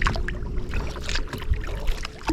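A kayak paddled on the water near Deep Cove, with soft irregular splashes and drips from the paddle blades close by, mixed with gentle wind and water noise.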